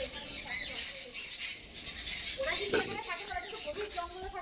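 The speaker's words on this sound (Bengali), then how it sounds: "সব পাখিগুলো এখানে গাছের মধ্যে বসে বসে চেঁচাচ্ছে ভয়ে।" Birds screeching in fear in trees while a large hawk hunts over a field, repeated shrill squawks and squeals over outdoor noise, with a person talking at times.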